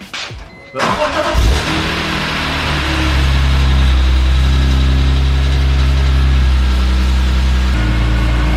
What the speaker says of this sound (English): Now we're gonna start it up and see how it sounds.